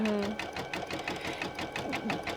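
An embroidery machine stitches a crazy-quilt block with flat cotton thread, its needle tapping in a steady, fast repeating rhythm close by, with a faint voice briefly heard at the start.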